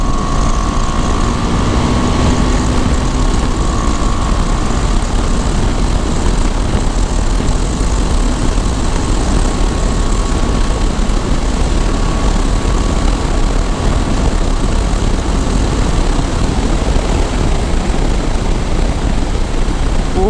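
Motorcycle ridden at speed on a road in Haryana, a loud, continuous engine drone mixed with heavy wind rush, steady and unbroken with no talk.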